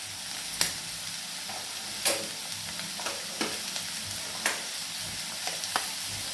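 Onions sauté with turmeric in a pan, a steady soft sizzle and frying hiss broken by several sharp scraping stirs of a spoon at irregular intervals, with no talking.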